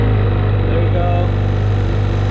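A Sea-Doo XP-DI personal watercraft engine idles close by, loud and low with a steady rhythmic thrum.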